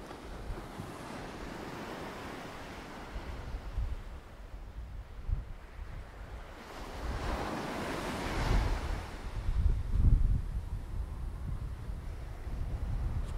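Ocean surf at Worthing Beach, Barbados, rolls in steadily on a quiet, empty stretch of sand, with waves swelling and breaking nearby under constant wind buffeting the microphone.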